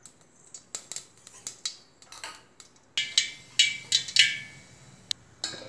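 Mustard seeds splutter and pop in hot oil as a string of sharp, irregular crackles that grow denser and louder toward the end, close up and with no talk.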